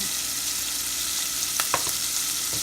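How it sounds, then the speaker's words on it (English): Large shrimp seasoned with adobo and creole seasoning sizzle steadily as they brown in a pan, a dense continuous hiss with a few faint clicks and pops. "So I'm going to just brown these up just a little bit."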